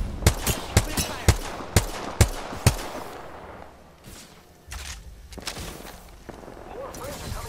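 Gunfire in the battle royale game Apex Legends: a string of six sharp, loud shots at a steady rhythm, then quieter scattered distant shots and game ambience, with some talk in the background.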